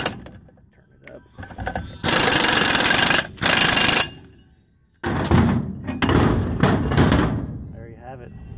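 An air impact gun hammers at a stuck brake drum on a VW Bug or Bus in two loud, close, rattling bursts of about a second or more each, separated by quiet workshop sounds and short clanks.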